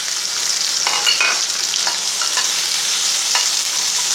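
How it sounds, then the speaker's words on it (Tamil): Shallots, curry leaves, a garlic clove and tomato sauté in a little oil for a mushroom gravy paste, giving a continuous bright sizzle with a few light stirring scrapes and no talking. "இதெல்லாம் பேஸ்ட் பண்ணுறதுக்காக கொஞ்சம் ஆயில் விட்டு வதக்க எடுத்துக்கிடுவோம்."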